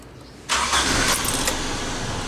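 A car engine cranks and catches after an ignition coil cable repair, then settles into a steady, loud, rough idle close by, with no voices.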